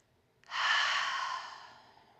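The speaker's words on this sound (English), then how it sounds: "Take one more big inhale together. Open mouth, exhale." A single deep open-mouthed exhale at the end of a yoga session, a soft breathy whoosh that starts abruptly, swells close to the microphone and slowly fades over about two seconds.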